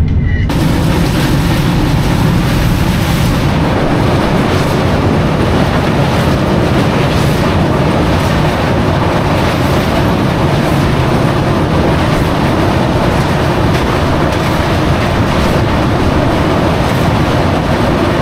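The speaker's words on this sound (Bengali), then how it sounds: "আমাদের ট্রেন এখন কোলাঘাট ব্রিজ ঢুকছে।" The Dhauli Express passenger train rolls onto the Kolaghat bridge at night, heard from on board as a loud, continuous rumble and rattle of wheels and carriages that holds steady throughout with no break.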